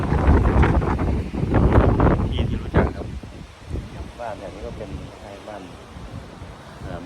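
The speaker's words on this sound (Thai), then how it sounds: "ลมค่อนข้างแรงครับวันนี้ครับ" Strong sea wind gusts near the coast, roughly an hour's drive from San Francisco, roaring steadily as heavy wind buffeting against the microphone, loudest in the first few seconds before easing to a constant rush.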